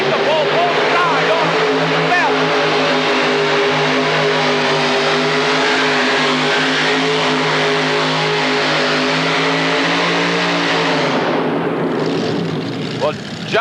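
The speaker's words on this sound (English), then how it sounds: "Here goes the Northeast Raider with 3 Aries engines." A modified pulling tractor with three Aries engines roars loudly and steadily at an indoor 1986 tractor pull, a dense sustained engine drone that holds for about eleven seconds before dropping away.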